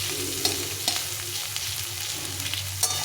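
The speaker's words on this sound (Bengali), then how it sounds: "প্রথমে পেঁয়াজটাকে লাল লাল করে ভেজে নেব খুব লাল করবো না মোটামুটি লাল করে ভেজে নেব" Onions sizzle steadily in a hot pan while being fried until reddish, with a few soft scraping stirs breaking through the even, close frying hiss.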